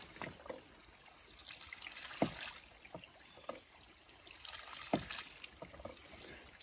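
A ram pump cycling water on a hillside line, giving periodic sharp knocks and thumps every few seconds over a continuous trickle and gurgle of flowing water.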